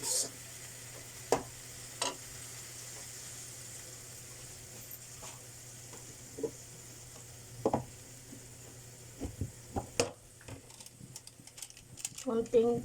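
Malunggay leaves and century tuna cooking in a pan with a pinch of salt, a quiet steady sizzle broken by occasional sharp clinks and scrapes of a utensil against the pan, growing busier near the end.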